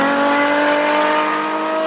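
Naturally aspirated V12 of the Naran hypercar revving loudly and close, a steady high-pitched wail with strong tonal harmonics sustained throughout.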